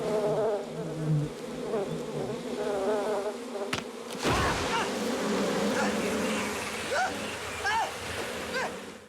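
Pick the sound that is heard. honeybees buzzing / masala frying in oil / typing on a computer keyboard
honeybees buzzing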